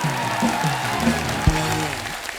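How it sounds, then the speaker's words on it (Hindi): Loud, steady studio audience applause fills a comedy talk show stage for the full stretch, with tonal sounds layered over the clapping. "द नाइट मैनेजर की पूरी टीम के लिए जोरदार तालियां।"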